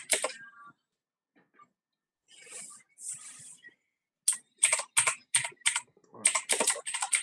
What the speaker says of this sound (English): Who's typing so loud?